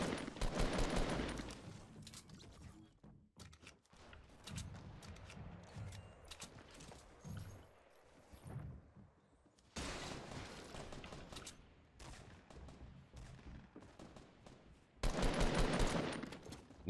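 Rapid automatic gunfire from the Fortnite battle royale video game, loud bursts of repeated shots in several clusters with brief gaps between them, heard alone without talking.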